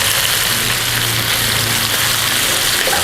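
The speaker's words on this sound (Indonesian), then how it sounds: "Ini aku goreng ikan terinya 250 gram." About 250 grams of small anchovies fry in a shallow amount of oil in a pan, giving a dense, steady sizzle and crackle that stays loud and unbroken throughout, with no talking.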